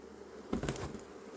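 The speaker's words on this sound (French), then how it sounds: "On va se retrouver avec des abeilles partout." Honeybees from a recently settled swarm buzz close by, a dense mid-pitched hum that swells in a brief burst partway through over steady background noise.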